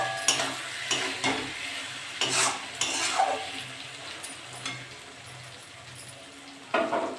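Pointed gourd frying in oil in a pan, stirred with a utensil: soft intermittent scrapes and clinks over a low steady sizzle, close and fairly quiet, with no one talking.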